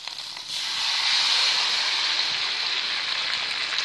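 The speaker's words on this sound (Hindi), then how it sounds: "अब जाएगा इसके अंदर अदरक लहसुन और टमाटर का जो मैंने पेस्ट बनाया वो" A ginger, garlic and tomato paste hits a hot pan, and a loud, steady hiss of sizzling swells within the first half second, then holds evenly throughout without any voices.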